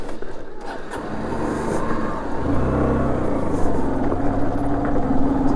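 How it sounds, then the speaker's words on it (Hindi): A vehicle engine in third gear on a rough road near Parasnath Hill, Jharkhand, gives a steady, loud, rumbling drone that grows heavier after the first two seconds, with road noise underneath. "थर्ड गियर पे राइड कर रहे थे इसलिए गाड़ी साउंड कर रहा था इतना।"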